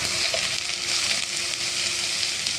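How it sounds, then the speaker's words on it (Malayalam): Crushed green chili, garlic and curry leaves frying in oil for a country-style chicken curry, a dense, even, close hiss of sizzling that holds steady throughout. "പിന്നെ പച്ചമുളകും വെളുത്തുള്ളിയും കൂടെ ചതച്ചത് പിന്നെ കുറച്ച് കരിയേപ്പില ഇതെല്ലാം കൂടെ നമുക്കൊന്ന് ഇറക്കി എടുക്കാം"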